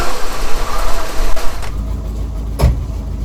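A 1978 Oldsmobile Toronado XS barn find, left sitting for decades, cranks over with a rhythmic, churning starter whir for about a second and a half. It stops without catching, followed by a single dull thump.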